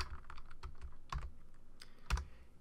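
Irregular clicks of keys being typed on a computer keyboard, a handful of close, crisp taps with one heavier spacebar-like press.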